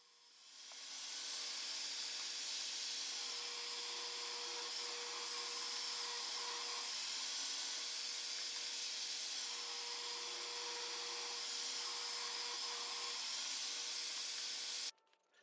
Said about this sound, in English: Decided to use the table saw this time just because it's quicker and a little bit cleaner.